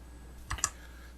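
A computer mouse gives two quick, quiet clicks close together over a faint background hum as the render button is pressed in SketchUp.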